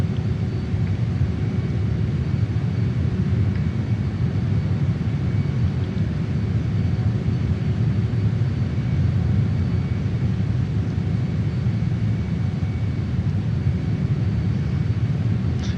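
A JAS-39 Gripen jet flies over Tbilisi, Georgia in Microsoft Flight Simulator, giving a steady low engine rumble and roar that runs unchanged throughout with no voices.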